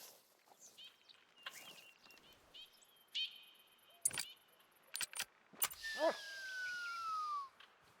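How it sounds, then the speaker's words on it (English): A bird calls in The Hunter: Call of the Wild, with short chirps and a descending whistle among scattered jangling and clicking sounds against a quiet outdoor background. "Bird."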